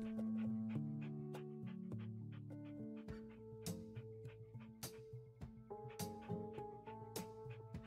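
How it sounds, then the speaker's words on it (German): A dog pants in the House Flipper video game, its short rhythmic breaths sitting quietly under sustained background music with tonal layers; faint and mid-distance, with no talking. "Und sonst dieser Hund wieder einfach nur im Weg rumsteht."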